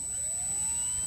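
An RC model Cessna 182 trainer takes off, its motor a loud, steady rising whine that climbs in pitch over a brief second, close by and alone.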